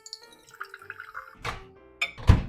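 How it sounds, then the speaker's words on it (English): Water is poured into a small vessel to heat for matcha, with quiet tonal clinks and light drips, then two louder splashy bursts close by. "I'm just putting water in this a little bit and gonna heat it up"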